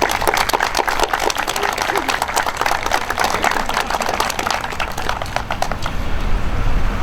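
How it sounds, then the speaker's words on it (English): An audience claps for a police corporal's family at a township police ceremony, a dense and steady round of applause filling the whole stretch, with crowd noise mixed in. "I'd like to have a round of applause for the family."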